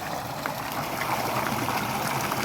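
Water pours steadily from a running tube-well motor pipe beside a rural road near a Punjab village, a continuous close gushing flow with no pauses and no voices.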